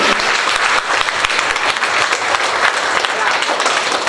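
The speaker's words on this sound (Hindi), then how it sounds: "एक बार तालियों से स्वागत कीजिए।" An audience at a student event claps to welcome a student, steady dense applause filling the whole moment at close range with no pauses.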